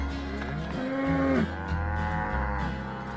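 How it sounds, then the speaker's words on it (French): Cartoon cows moo in a farm setting, several long drawn-out lowing calls that overlap and rise and fall in pitch, loud and close, with no talking. "les vaches ont mangé toutes les fleurs de Bisouville"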